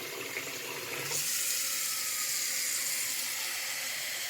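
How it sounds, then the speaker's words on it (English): Water runs from a tap into a bowl, starting with a softer trickle and then a louder, steady rushing stream close by. "you're going to want to fill it up with water"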